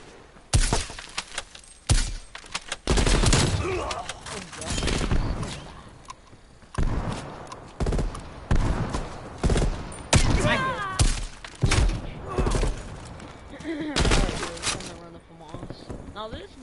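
Rapid bursts of video game gunfire from an online free-for-all shooter match, loud and close, arriving in clustered volleys with short gaps and a voice talking between shots.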